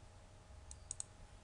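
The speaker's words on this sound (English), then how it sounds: "So I click OK." A computer mouse gives three faint, crisp clicks close together near the end, over a quiet background hum.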